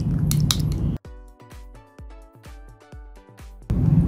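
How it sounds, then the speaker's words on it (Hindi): Aloe vera gel and water stirred with a spoon in a bowl give a quick run of about a dozen wet, ringing clinks and taps, close and clear, framed by brief louder noise at start and end. "मिक्स करें।"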